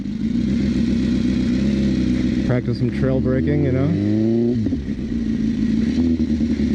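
A liter-bike motorcycle engine drones loudly while riding on a practice course, then revs up through a rising, wavering whine before settling back, with a rider talking over it.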